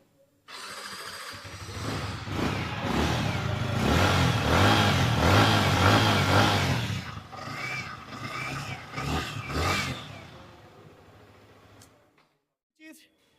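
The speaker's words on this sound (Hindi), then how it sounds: "MT-15 2024 मॉडल का इंजन साउंड आप लोग सुन लो, ठीक है।" A 2024 Yamaha MT-15 V2 motorcycle engine revs hard and climbs, then settles into throttle blips with rising and falling pitch before cutting off near the end.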